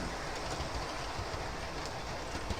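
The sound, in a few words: model railway train running round the track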